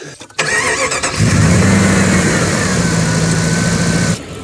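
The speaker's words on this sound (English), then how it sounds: "As you can see and hear, this engine runs very nicely, and it sounds pretty good too" A Jeep Grand Cherokee ZJ engine cranks, catches and settles into a steady, loud idle up close, with a low continuous rumble and a faint whine.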